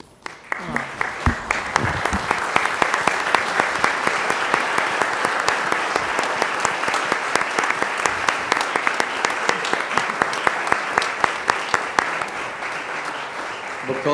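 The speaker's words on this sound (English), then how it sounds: "could you join me in giving our school board a standing ovation?" Sustained standing ovation at a school board meeting, with dense applause from a large audience that starts almost at once and keeps an even level for about twelve seconds, then eases slightly near the end.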